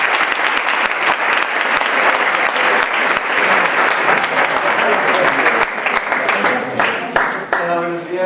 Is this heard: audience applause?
yes